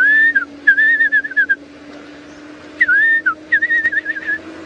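A person whistles an imitation of a fiery-necked nightjar call during a sunset safari drive, giving clear repeated warbling phrases in two bursts separated by a pause, close and loud over a low steady hum.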